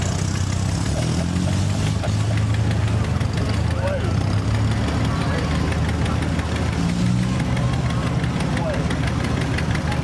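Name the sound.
antique tractor engine running during tractor show parade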